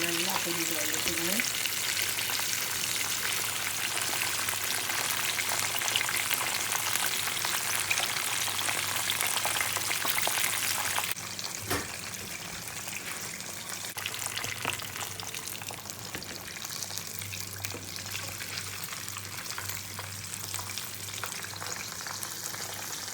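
KFC-style fried chicken pieces deep frying in hot oil, a loud, dense, continuous crackling hiss that drops somewhat in level midway and carries on more softly, with brief faint voice near the start.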